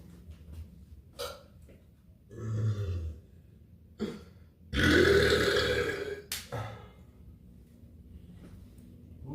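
A person lets out several loud, drawn-out burps with short pauses between them, close to the microphone and with no talking.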